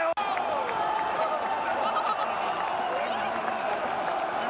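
Hockey arena crowd noise during a tight second period, a steady dense roar of cheering and applause with scattered claps, continuous and fairly loud throughout.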